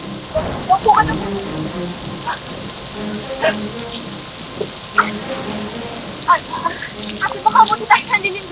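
Steady rain falls outdoors as a constant hiss, with scattered louder drips and splashes, while voices talk faintly in the background.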